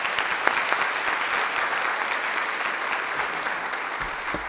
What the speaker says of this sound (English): Would you all please give all these people a big round of applause?